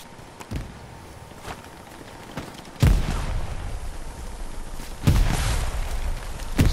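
Grenade explosions in the video game Hell Let Loose: two heavy, close booms about two seconds apart, each with a rumbling tail, over a steady bed of distant gunfire pops and battlefield noise.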